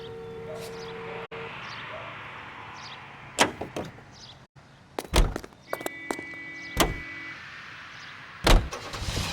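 A car in the video game L.A. Noire rumbles at a low, quiet idle, broken by several sharp thuds and clunks spaced a second or two apart.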